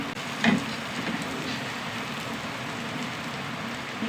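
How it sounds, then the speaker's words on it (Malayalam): Steady rain falls outside, a constant soft hiss of drops with a brief louder patter near the start, heard at moderate distance without speech. "മഴ കാരണം സൗണ്ട് കേൾക്കുന്നുണ്ടാകും"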